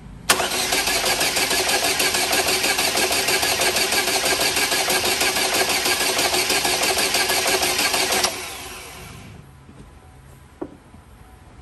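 A Chevrolet Cruze engine cranks steadily for about eight seconds after a head gasket replacement, a loud, fast rhythmic churning that stops abruptly, leaving faint clicks.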